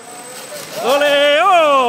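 An indoor quadcopter drone revs up with a loud, close, rising whine partway through, its pitch climbing and wavering as it flies, after a quieter stretch.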